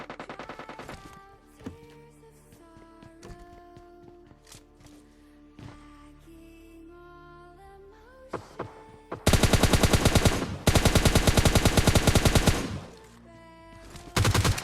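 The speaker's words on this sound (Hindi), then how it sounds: "काफी सारे गन साउंड्स वगैरह आ रहे थे" Gunfire rattles through a PUBG Lite match at a factory, with sporadic single shots and distant bursts giving way to loud, sustained automatic fire in two long runs near the end, with no voices.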